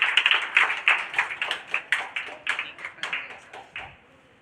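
Audience applause at a Bihar Board 2025 district toppers' award ceremony, a steady run of many hands clapping with regular bursts that fade slightly toward the end, with no talk.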